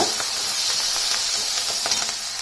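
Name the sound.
curry leaves sizzling as added to hot pan with turmeric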